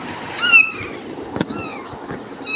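A pet cat meows indoors, a few clear nearby mews spaced out over a quiet room background.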